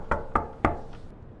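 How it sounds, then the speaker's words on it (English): Three sharp knocks on a door in a horror video game, spaced evenly and heard alone, followed by a fainter fourth tap and quiet room tone. "I knocked on the door, but no one answered."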